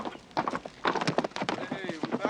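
Horse hooves clip-clop in quick uneven beats as a rider arrives, fairly close, with people talking and calling out over the hoofbeats.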